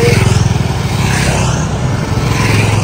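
Motorcycles ridden by a group of bikers roar past on a forest road near the Sreerampur border en route from Siliguri to Assam, a loud, steady, close engine drone with throbbing pulses throughout.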